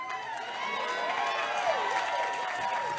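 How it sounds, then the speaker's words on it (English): Audience at a storytelling event applauding, a soft, steady patter of many hands clapping for about three seconds, fairly distant and even. "All right, a round of applause."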